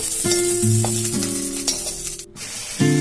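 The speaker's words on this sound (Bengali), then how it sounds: "পাতা পাতাগুলো একটু মুচমুচকে করে ভেজে নেব ভালো করে" Banana flower peels frying in oil until crisp give a loud, steady sizzle, accompanied by sustained tonal humming notes that briefly cut out near the end before returning, with no speech.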